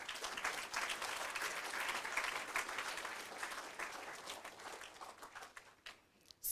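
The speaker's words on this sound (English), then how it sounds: "Let's applaud them." An audience applauds student readers at a reading competition, a dense sustained burst of clapping that thins out and fades toward the end.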